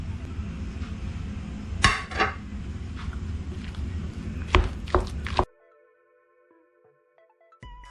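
Cooked tapioca being mixed in a pot with coconut, garlic, shallots and green chilli: steady scraping and clattering of a spoon against the metal pot, with a few sharper knocks, before the stirring stops abruptly and near-silence follows.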